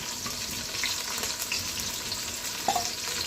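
Ginger, garlic and onion frying in oil in a home kitchen, a steady crackling sizzle with occasional stirring clinks, close and moderately quiet, with no voices.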